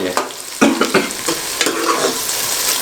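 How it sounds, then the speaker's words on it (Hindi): Onions fry toward light brown for a mixed vegetable dish, a loud close sizzle broken by several sharp spatula stirs and scrapes against the pan. "और प्याज जो हमारा है ये हल्का हल्का जो है ना ब्राउन हो जाए।"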